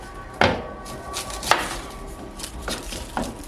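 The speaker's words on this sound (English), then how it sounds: "let's chop up some onions" Knife chopping onions on a cutting board in a home kitchen, with about four separate sharp chops spaced irregularly over a faint background hum.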